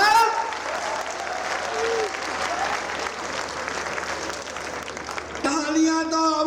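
An audience claps at a Hindi comic poetry gathering (kavi sammelan), sustained dense applause from a crowd filling the whole stretch, with a voice speaking over it near the end.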